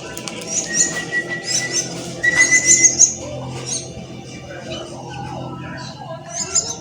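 A Martinez bird chick at feeding time gives repeated thin, high whistling chirps in short bursts that cluster toward the middle, heard close over a low background murmur.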